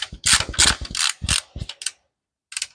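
Quick, loud bursts of a socket ratchet clicking right up close while working on a Nissan 200SX S12 transmission, several rapid strokes, a brief silence, then a last short burst.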